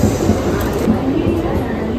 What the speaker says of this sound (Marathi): आली ट्रेन आली.